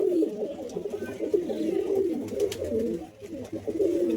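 Fancy pigeons coo continuously in a loft, several low rolling calls overlapping at close range against a rustling background, with a faint voice now and then.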